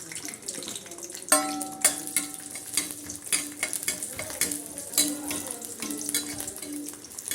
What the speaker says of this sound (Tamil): நம்ம ஒரு ஆறு பல் பூண்டு போட்டு இதை வதக்கி எடுத்துப்போம்